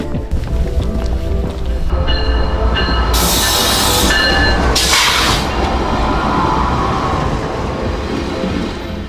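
A short train rumbles loudly past along the waterfront promenade at White Rock, British Columbia, close by, with metallic wheel squeal and screeching bursts partway through before the roar eases off.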